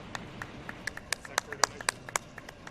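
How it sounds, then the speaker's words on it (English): Scattered, uneven hand claps from a small audience at a speedrun marathon event, some sharp and close and others fainter, with a faint voice in the background. "Every clap counts."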